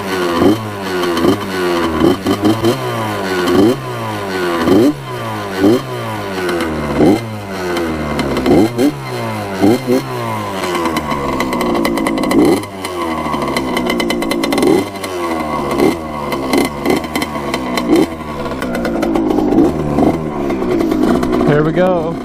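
A restored Honda CR80 two-stroke dirt bike engine revs hard and repeatedly, with rising and falling pitch sweeps in a steady rhythm of throttle blips, loud and close throughout.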